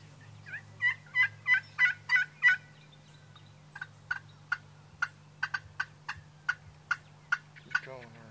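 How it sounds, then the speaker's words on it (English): A wild turkey gobbler in a pasture in southeast Alabama gobbles several times in quick bursts, followed by a long string of sharp, evenly spaced yelps or clucks over a low steady hum. "he came out and he strutted and gobbled and strutted"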